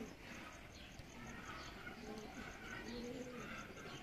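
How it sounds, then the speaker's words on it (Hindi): Pigeon cooing from a prized breeding pair of pigeons offered for sale in Lahore, soft repeated low coos that come and go close by over a steady background hum. "जोड़ा नंबर 3 है बड़ी कमाल का कबूतर है यार।"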